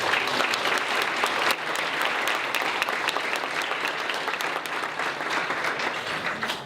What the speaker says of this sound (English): Can I have a round of applause for those 8 years?